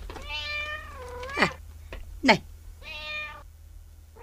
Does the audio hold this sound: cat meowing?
yes